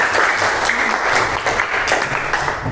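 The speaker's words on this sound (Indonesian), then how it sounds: "Bu Puji minta tolong tepuk tangannya untuk Mbak Mariska" Classroom audience applauding for Mbak Mariska after she reads a descriptive text aloud, steady dense clapping filling the whole moment without a break.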